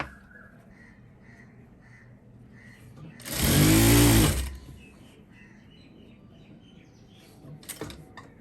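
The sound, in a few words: sewing machine stitching a folded kurti hem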